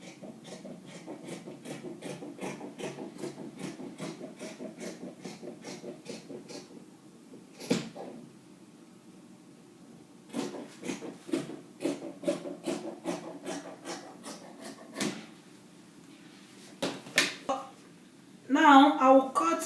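Scissors snip through kaftan fabric at the armhole in quick, rhythmic close cuts, pausing and resuming in bursts, with a louder rustle of cloth at the end.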